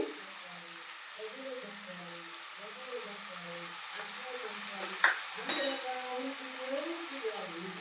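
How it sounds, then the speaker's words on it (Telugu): Turmeric going into a sizzling pan of oil for egg biryani, with a soft steady frying hiss and a brief clink and stir partway through, fairly quiet under a faint voice. "ఇప్పుడైతే పసుపు వేస్తున్నానండి"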